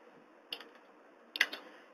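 Keys tap on a computer keyboard while HTML is entered in Notepad, two short, quiet clusters of clicks in an otherwise hushed room.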